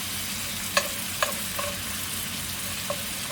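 Garlic and spices fry in oil for a New Mexico style Thai curry, a steady close sizzle under a few sharp scraping clicks as a utensil stirs against the pan; no one speaks.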